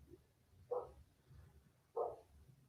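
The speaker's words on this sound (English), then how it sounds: "can you hear a dog barking in the background?" A dog barks twice in the background, a few seconds apart, faint and somewhat distant, over quiet room noise.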